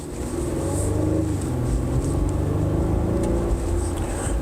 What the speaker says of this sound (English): Exhaust does sound pretty good for a V6.